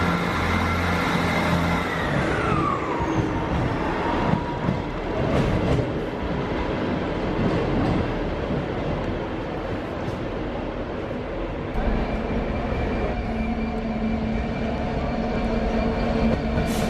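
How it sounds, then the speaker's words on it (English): A train rolls along the railway line at Doncaster, a loud, continuous rumble with rail clatter and a descending whine from the traction motors, heard close and sustained with no voices. "We're now with a 12:19 turning train service from Peterborough and Other Kings Cross."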